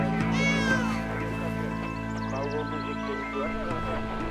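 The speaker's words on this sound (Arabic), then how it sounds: "فكرت حالي اني سمعت صوت حدا، طلعت قطة." A cat meows in a dubbed drama scene, a short cry near the start followed by fainter mewing, set against a steady background hum and a soundtrack.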